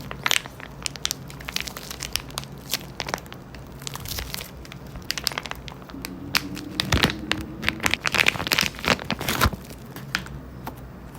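Crinkly plastic wrapper crackles and crunches as a soft toy is squeezed repeatedly, in irregular bursts close to the microphone, with no talking.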